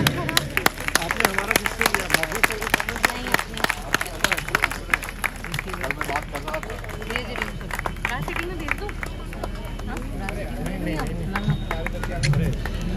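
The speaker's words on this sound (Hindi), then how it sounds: "तालियां बजती रहनी चाहिए" Applause from an audience at a Basant Panchami festival gathering in Moradabad, a steady crowd clapping running throughout with hubbub and voices mixed in.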